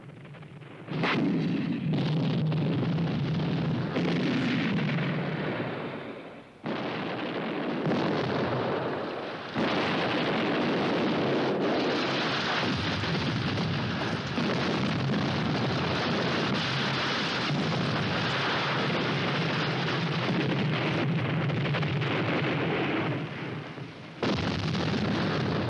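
Artillery shells fire and explode in a continuous, loud, rumbling barrage of booms and blasts that rolls on for the whole stretch with brief dips, no voices heard.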